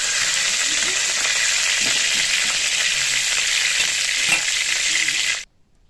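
Hilsa fish heads frying in hot oil make a loud, steady hiss and crackle with occasional soft stirring knocks, then stop abruptly near the end.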